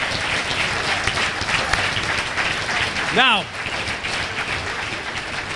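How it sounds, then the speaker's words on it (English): A crowd at a 2012 political caucus gives a sustained round of applause, with a brief whoop rising over the clapping and a voice speaking shortly. "Let's give all these people a big round of applause."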